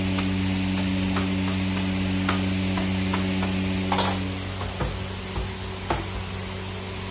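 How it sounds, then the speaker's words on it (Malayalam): Porotta flatbread cooking on a hot griddle stone, with a steady sizzle and light crackle under a constant low hum, plus a few soft taps and knocks. "പരത്തിയിട്ട് നേരെ കല്ലുമലേക്ക് വെക്കുന്നുണ്ട്."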